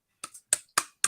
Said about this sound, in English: I'll do the clap.